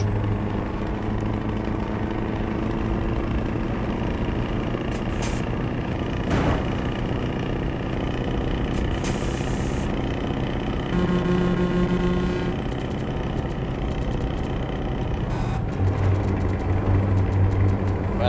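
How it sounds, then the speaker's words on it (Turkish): A Scania V8 truck in Euro Truck Simulator 2 gives a continuous deep engine and exhaust rumble, loud and close, holding steady throughout with slight rises in tone and no talking. "V8 motorun hem gücü hem sesi gerçekten olağanüstü"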